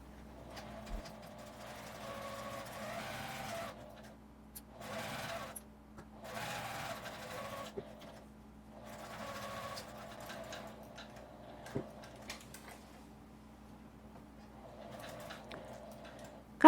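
A sewing machine stitches fabric for a boxed tissue case, running in several short bursts of close, quiet mechanical whirring separated by pauses, with a faint low hum and a sharp click at the end.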